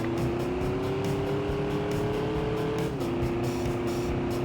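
A car engine in Stuntman drones at high revs, a steady loud whine that holds, then drops briefly as the gear shifts before carrying on.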